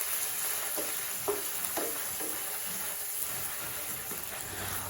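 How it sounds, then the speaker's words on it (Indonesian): Salted squid stir-frying in hot oil, a steady close sizzle with scattered soft pops and crackles under the hiss, no voices. "kalau misalkan minyaknya udah panas, masukkan cumi tadi ya teman-teman. Tumis cuminya sampai benar-benar agak kering."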